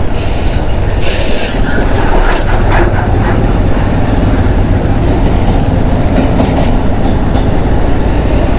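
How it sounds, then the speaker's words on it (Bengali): A train rolls past close by on the railway line beside a road, a loud continuous rumble with rhythmic wheel clatter and metallic squeal throughout. "ট্রেন যাচ্ছে, পাশের যে ট্রেন লাইন আছে।"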